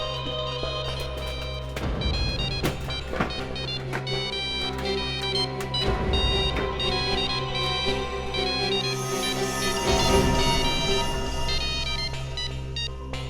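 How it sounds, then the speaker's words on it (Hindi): A mobile phone rings from inside a trunk, its electronic ringtone melody repeating steadily and loudly for the whole stretch, with no voices over it. "देखिए देखिए, बज रहा है ये।"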